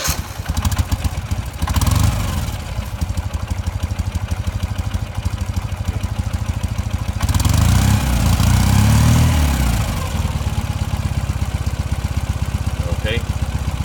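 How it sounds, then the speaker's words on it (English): Ural motorcycle engine with electronic fuel injection idling steadily and close, a dense low rumble that swells briefly in revs partway through, with someone talking intermittently over it. "I'm going to start the bike."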